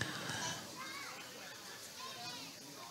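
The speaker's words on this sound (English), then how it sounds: "Kids playing in the cornfield behind us." Children play in a cornfield at a ballgame, their distant high voices calling and shrieking in a continuous wash under the open-air background.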